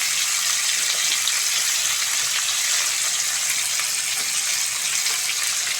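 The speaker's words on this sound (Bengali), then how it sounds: "এইবার সবজিগুলো ভেজে নেব" Carrots and beans fry in a pan for prawn fried rice with a steady, hissing sizzle that is close and continuous, and no one talks over it.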